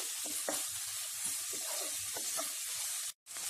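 Chopped tomatoes sautéing in a pan for Indian street-style masala Maggi noodles, a steady close sizzle with scattered stirring clinks, briefly cut off near the end.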